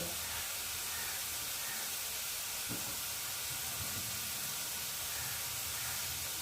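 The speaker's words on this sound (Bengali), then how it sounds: "চিংড়ি মাছটা ভেজে নিই" Shrimp frying in a pan make a faint, even sizzling hiss that runs unbroken from start to finish, with no one speaking.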